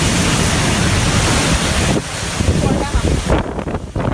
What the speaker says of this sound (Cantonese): 由高位望落去，見到大浪冚埋嚟，有幾層樓高。